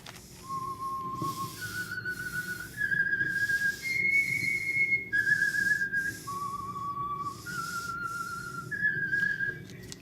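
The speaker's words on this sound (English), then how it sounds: "That whistle is your signal for the Signal Oil Program, The Whistler." The whistled theme signal of the Signal Oil radio program The Whistler: a clear, melodic run of about eight sustained whistled notes that step up and down in pitch, loud and close over a low background hum.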